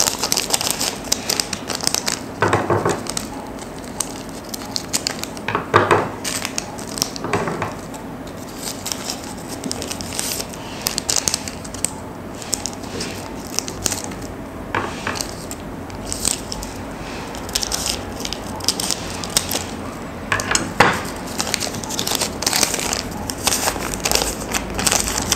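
A metalized Kapal Api coffee sachet is handled and emptied, giving repeated close crinkling and crackling bursts of foil packaging with softer rustling and pouring grit between them over about twenty-five seconds.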